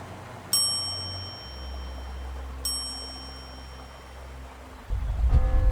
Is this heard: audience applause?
no